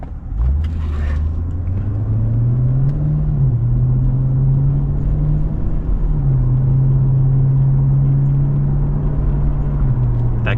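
A 2006 HSV VE Senator with an automatic transmission drones steadily from inside the cabin as it shifts from third to fourth, the low engine tone rising, then stepping down and settling, loud and close.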